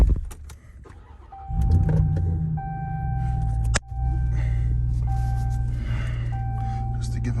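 A truck engine idles and revs as the vehicle shifts position to make room for another backing vehicle, with a steady low rumble, a brief thump partway through, and people talking over it.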